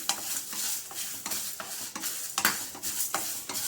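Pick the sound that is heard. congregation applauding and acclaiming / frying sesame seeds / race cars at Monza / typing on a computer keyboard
frying sesame seeds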